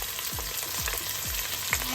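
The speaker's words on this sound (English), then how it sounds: "Now it's sizzling." Steady sizzling and crackling of an onion mixture frying in hot oil over medium heat, close and continuous, with a few soft stirring scrapes and no voices.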